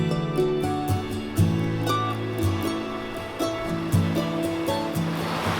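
Creek water flows at the junction of two mountain creeks in the Pecos Wilderness, making a steady, full rushing roar with faint tonal notes running over it throughout.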